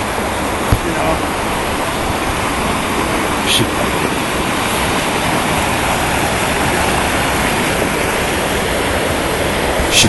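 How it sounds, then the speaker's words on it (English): Rushing water where Chicago Creek pours into Clear Creek in Colorado. The roar is loud, steady and broadband, with no break throughout. "Chicago Creek dumping into Clear Creek."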